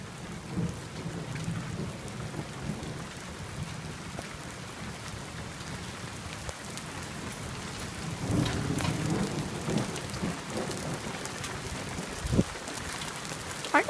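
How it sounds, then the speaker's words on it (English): A thunderstorm in California with steady heavy rain hissing throughout, a low rumbling roll of thunder building around the middle and a sharper crack near the end, close by. "I think the storm is heading right over me"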